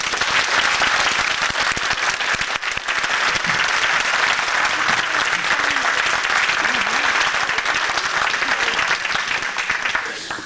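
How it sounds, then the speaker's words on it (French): Loud, sustained applause from a large audience at an inauguration ceremony, steady throughout and fading slightly at the very end. "je vous demande de les applaudir et de les encourager"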